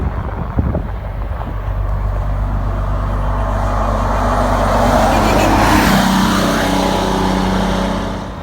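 A rescued old bus rolls down the highway during a long road trip toward Arkansas, its steady engine and road rumble swelling and easing with some wind buffeting, loud and continuous with no one speaking.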